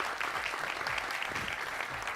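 Steady, dense applause from a studio audience on the Jeeto Punjab game show, continuous clapping filling the whole moment at moderate loudness.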